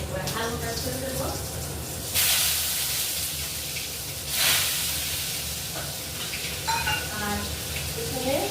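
Potatoes frying in a pan of oil tempered with five-spice seeds, a continuous sizzle with two louder hissing surges as they are stirred, under talking and faint background music.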